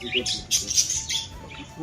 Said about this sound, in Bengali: আর এইদিকে রাখবো আমাদের আবলুক পায়রা দুটো রয়েছে, তোমাদের কিন্তু চলে এসেছে খাওয়ার জন্য